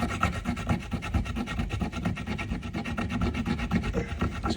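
Dishwasher tablet scrubbed hard against an iron plate, a steady rhythmic gritty rubbing with quick back-and-forth strokes throughout, close and fairly loud, with no talking.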